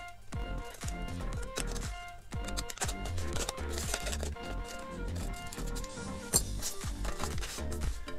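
Scissors cut out a paper pattern piece for a bodice block, making a steady run of close crisp snips and paper rustles with no talk.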